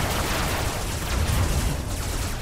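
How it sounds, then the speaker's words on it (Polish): A plasma gun firing in the video game Robocraft: a loud, dense burst of blast noise that stays harsh and sustained from start to finish, with no voices. "ktoś go właśnie jednym strzałem z plazmy zgarnął"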